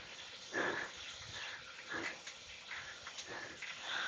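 A dog whimpers softly in short repeated whines while out on a walk, fairly faint against outdoor background noise, with no talk.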